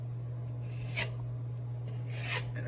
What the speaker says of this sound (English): I'm going to take my little putty knife with my spackle